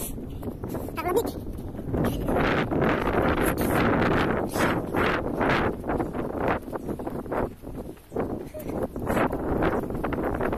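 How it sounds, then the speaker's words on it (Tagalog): Gusty, cold wind buffets the microphone in surging bursts outdoors in Yuen Long, with a voice talking underneath now and then. "Alakas ang hangin."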